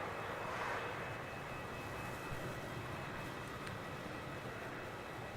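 Qantas Boeing 737-838 jet at Melbourne Airport, a steady distant broadband engine roar and hiss, fairly faint and continuous with no voices.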